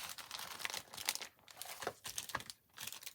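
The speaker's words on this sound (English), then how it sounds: "Sorry for the packaging noise." Close, quiet crinkling and rustling of plastic packaging while a new paper-crafting kit is unpacked, a continuous jumble of crackles and crisp rustles with brief pauses, no talking.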